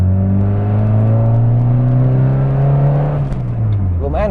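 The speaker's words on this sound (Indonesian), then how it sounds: "Honda suaranya tuh enak teman-teman, kalau dikasih knalpot free flow kayak gini" A 1993 Honda Civic Genio fitted with an aftermarket free-flow racing exhaust holds a loud, close rev with a steady droning note, then the revs drop and a rasp breaks off near the end.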